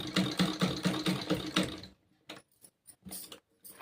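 A sewing machine stitches a kurti sleeve seam in a fast, rhythmic mechanical whir for about two seconds, then stops, leaving a few close clicks and handling sounds.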